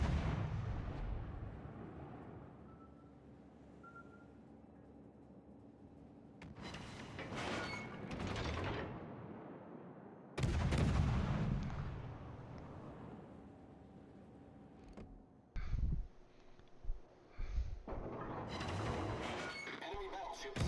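Warship main guns firing armour-piercing rounds in the naval battle game World of Warships, several heavy booming salvos spaced apart, with some quieter stretches and mechanical noise between the blasts.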